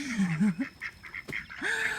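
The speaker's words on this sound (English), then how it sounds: "my muddy ducks over there are busy" Farmyard ducks on a homestead: a few loud, nasal honking quacks close by, one rising call near the start and another near the end, with short gaps between them and no talking.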